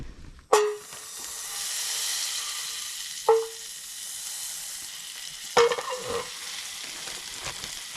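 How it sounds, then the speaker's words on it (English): Butter melts and sizzles in a pan, a steady soft frying hiss broken by three sharp metallic clanks as utensils hit the pan, close by with no talk. "We'll get this butter melted off slowly in there."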